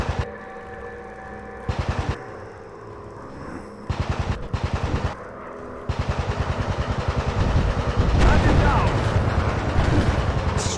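Machine gun strafing runs in the WW1 fighter game Warplanes, played on a VR motion simulator, heard as rapid repeated bursts of fire over a droning plane engine, with someone talking between bursts.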